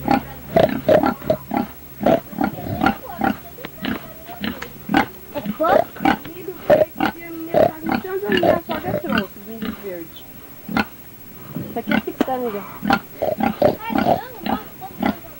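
A pig in a pigsty grunts and oinks in repeated short bursts on an old cassette tape recording, mixed with people talking nearby.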